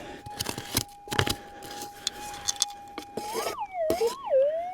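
Metal detector at an open cut mine sounding a signal over a gold-bearing target: a steady thin tone under scraping and clinking of the scoop, then bending into warbling, wavering pitches as the target is swept.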